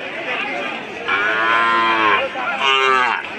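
Calves at a cattle market in Taraganj, Rangpur, lowing twice nearby, each a loud drawn-out moo, over a low murmur of the market crowd.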